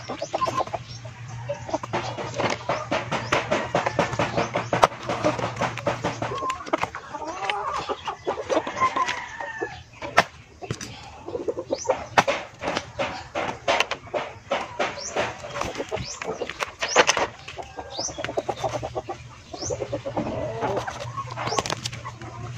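Chickens clucking and pecking while eating chopped banana stalk and leaves, a dense run of close, busy clucks and scratchy pecking sounds throughout with a low hum underneath.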